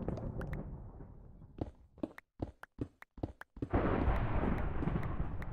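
Rumbling Minecraft thunder rolls in loud and broad after a run of quick in-game footsteps, swelling into a sustained low roar that carries to the end.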